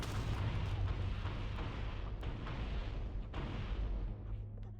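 Grenade explosions in the Halo video game with the Cursed Halo mod, a continuous loud rumble of blasts with several sharper bursts on top and no gaps between them.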